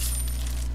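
Coins drop and jingle in Resident Evil 4, a brief bright metallic clink over a steady low game hum, alone with no talk.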